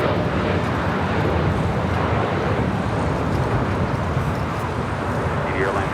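A jet airliner departs LAX bound for Paris, its engines a steady, broad, distant roar that holds an even level throughout.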